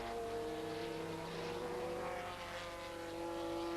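A Silk Cut TWR Jaguar Le Mans race car is held at very high revs, its engine producing a sustained, strained high-pitched drone that shifts slightly in pitch and stays fairly distant and steady throughout.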